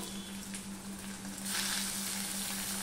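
Garlic sizzling in hot oil in a pan, a steady soft frying hiss that swells slightly louder partway through, heard alone without talk.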